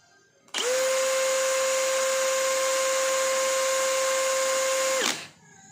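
Bosch GSB185-LI cordless brushless drill spinning up at its second speed setting, a sharp start into a steady high whine held for about four and a half seconds, then a clean stop, close and loud.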